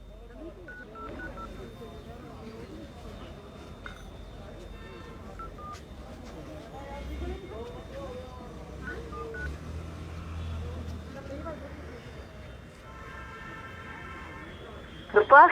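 A phone call is dialed to a local official, with short dialing and ringing tones coming faintly through a handset while someone talks over them. A louder burst closes it.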